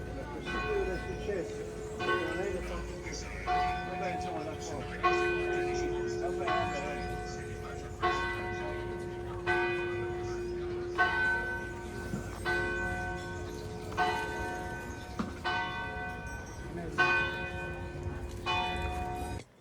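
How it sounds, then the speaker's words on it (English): Church bells in Florence ring out in a steady, repeating peal, rich and resonant, with a person talking over them throughout. "while I was there, the church bells started ringing, and so it was really fun to get to hear those"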